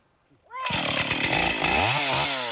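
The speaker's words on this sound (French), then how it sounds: "Un bruit de tronçonneuse résonne dans ce champ de sapins" A chainsaw roars to life after a brief quiet moment in a field of fir trees, running loud and close with its engine pitch rising and falling as it cuts.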